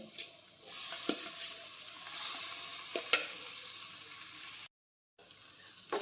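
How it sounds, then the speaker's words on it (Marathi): Cooked rice being stirred and sautéed with carrots in a pan gives a soft, steady sizzle punctuated by a few sharp spoon scrapes and clicks, quiet and close, with a brief silent gap near the end. "तयार केलेला भात यामध्ये घालून चांगलं परतून घ्यायचं आहे"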